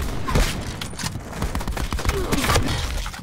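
Rapid sniper gunfire in Call of Duty Black Ops 4, a dense stream of loud cracks and thumps mixed with other game effects, with a voice talking over the shots.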